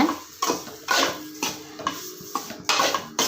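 A spoon stirs rava laddu mixture in a bowl, scraping and knocking against the sides in a steady rhythm of about two strokes a second, close and fairly loud.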